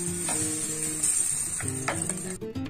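Ground lentil paste hits hot oil in a kadhai and sizzles loudly and steadily, with a bright continuous hiss and a few knocks from the spoon and pan, close and without talk.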